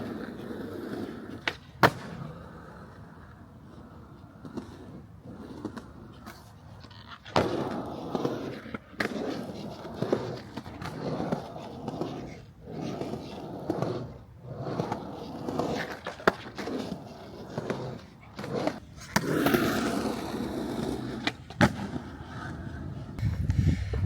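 Skateboard wheels rolling and boards clacking at a small skatepark in Kutztown, Pennsylvania, a steady rumble broken by repeated sharp pops and slams from tricks and landings, fairly close.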